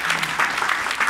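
An audience at a talk on using one's voice claps in a brief, lively burst of scattered hands close to the listener.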